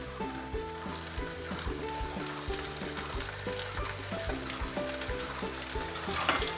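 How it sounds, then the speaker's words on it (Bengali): Chopped ripe tomatoes go into softened onions in a pan for a mutton curry, giving a steady close sizzle and frying hiss that runs throughout beneath background music with a clear tonal melody. "এবার আমি এর মধ্যে দিয়ে দেব দুটো পাকা টমেটো কাটা"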